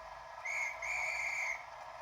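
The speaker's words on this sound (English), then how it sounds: "12 is the all famous guard's whistle" A guard's whistle from the sound decoder of a Bachmann class 37/5 model locomotive gives two shrill, steady blasts, a short one then a longer one, clear and fairly quiet over a faint background hiss.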